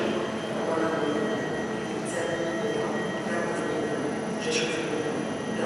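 A train departing from a station platform in Poland on a Lodz to Wroclaw trip, producing a steady mid-level rumble with a few brief high wheel squeals, heard amid platform ambience.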